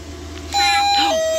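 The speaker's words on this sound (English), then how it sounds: "Over there, there's a doorbell." A household doorbell chimes once at close range, a steady electronic tone that holds for about half a second before dropping to a slightly lower note, with no talk over it.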